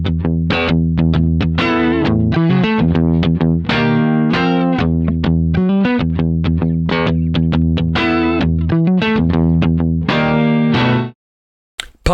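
Heavily distorted, palm-muted electric guitar chugs with accented open chords over drums in a 4/3 polyrhythm, loud and continuous for about eleven seconds before cutting off abruptly.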